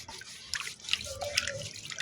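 Water running and dripping while a plant pot is washed, short splashes and trickles close by with small drips.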